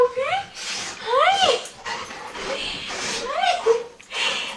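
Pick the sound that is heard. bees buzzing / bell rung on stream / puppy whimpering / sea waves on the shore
puppy whimpering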